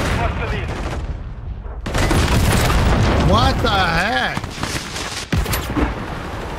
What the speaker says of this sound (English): was a sniper and a rocket launcher doubling up